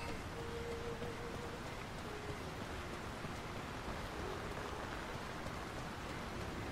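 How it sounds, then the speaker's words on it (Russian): Steady rain in The Lord of the Rings: War in the North hisses continuously at a moderate level, an even wash of falling drops with a faint tone briefly audible beneath. "Вечно тут дождь, никогда не кончается."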